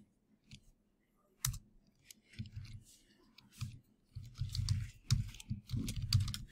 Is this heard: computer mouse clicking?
yes